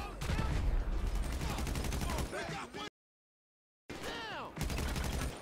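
Rapid gunfire in GTA V: loud bursts of automatic shots crackle in quick succession, break off into a brief silence, then resume with more fast shooting.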